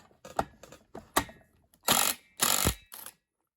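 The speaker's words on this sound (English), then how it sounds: "you will need an impact" An impact wrench works on a Kawasaki F6/F7 engine during teardown, with several short rattling hits followed by two loud, sustained hammering bursts, close and alone.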